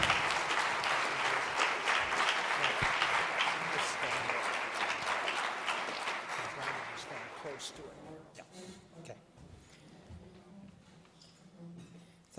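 A lecture-hall audience applauds to welcome a speaker for an evening lecture, sustained even clapping that gradually thins and fades into quiet.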